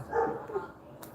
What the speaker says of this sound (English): One day I'll be free of these dogs.